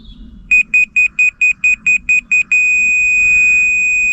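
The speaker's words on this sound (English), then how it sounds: "Wherever that receiver beeps, solid beep, it's level." A laser level receiver on a house building site gives nine short, evenly spaced high-pitched beeps in quick succession, then one long steady tone that holds to the end, loud and close.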